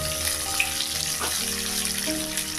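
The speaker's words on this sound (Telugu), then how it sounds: "బాగా గోల్డ్ కలర్ వచ్చేదాకా వేపుకోవాలి ఉల్లిపాయలు." Onion pieces frying in oil until golden for mango dal, a steady close hiss of sizzling that holds evenly throughout without speech.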